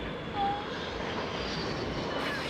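A-10 jets roar past at the Miami Beach Air & Sea Show, a broad steady engine rush heard from a distance over beachside crowd ambience.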